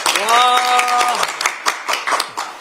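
At a Democratic Party campaign pledge announcement, a voice is followed by scattered audience clapping, several irregular bursts of hands from a small crowd.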